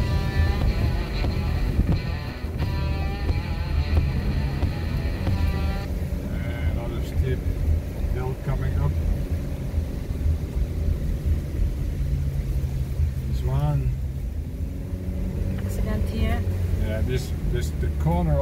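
A car engine labouring in first gear with the throttle flat to the floor on an uphill road near Minsua, Camiguin, Philippines, giving a steady loud low drone throughout while a voice talks over it.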